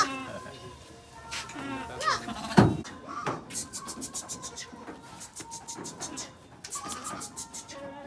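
Goats and sheep bleat repeatedly, some calls near and loud, others quieter, amid rustling, a sharp knock and faint voices in the background.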